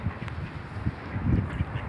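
Ducks at a pond quack in short, rough bursts, several calls close by in uneven rhythm over a light outdoor background.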